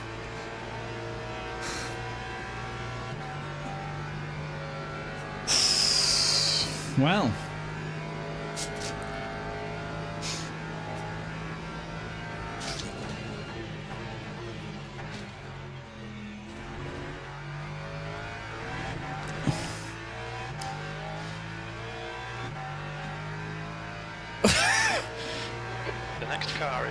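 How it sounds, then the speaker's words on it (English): An Alpine race car engine heard from outside in a racing video game, a steady droning whine that shifts in pitch with several sharp revving surges, while a commentator talks over it throughout. "That Alpine does sound fantastic from outside, doesn't it?"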